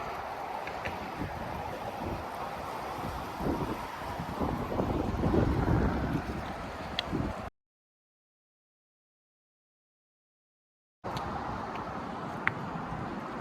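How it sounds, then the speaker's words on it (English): Steady wind buffeting the microphone on a bridge, a dense low rumble that swells midway, cuts out into silence, then resumes with faint rushing air. "Hopefully it's not too windy."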